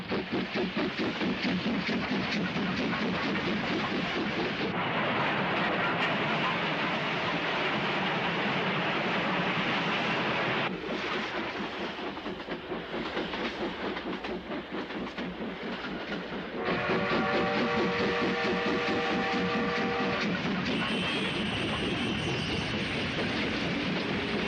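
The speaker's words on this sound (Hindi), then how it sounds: "अरे वाह, ये स्टीम लोकोमोटिव कितनी पावरफुल है।" A cartoon steam locomotive chugging along in a steady, loud rhythmic rumble with clattering wheels, ending with a high whistle-like tone near the end.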